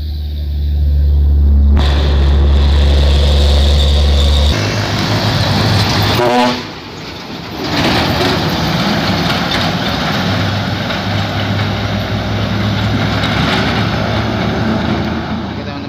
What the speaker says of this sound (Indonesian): Melihat di sini ada Hino tangki pantat merah ya, menanjak.